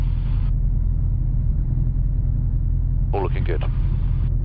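Piper Super Cub light aircraft engine running at 1200 RPM, a loud steady low drone heard from the cockpit throughout, with brief bursts of radio or intercom chatter and a short spoken remark on top.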